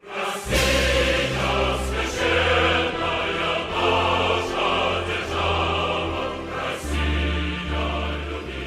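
The Russian national anthem melody plays steadily on full ensemble, loud and sustained, with chords changing in measured steps and no voices.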